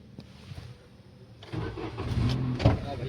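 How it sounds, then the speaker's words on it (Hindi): A car engine cranks and catches about halfway through, then runs as a close, low, steady rumble settling toward idle, with no talking. "तो गाड़ी स्टार्ट हो गई।"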